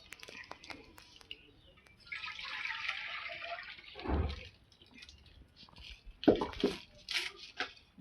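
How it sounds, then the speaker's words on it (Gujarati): Hot water is poured from a pot into a pan for fada lapsi, a broken-wheat sweet, making a steady gushing splash for about two seconds. Soft kitchen clatter follows. "પાણી ગરમ થઈ ગયું છે એને આપણે આમાં કાઢી દઈશું પાણી"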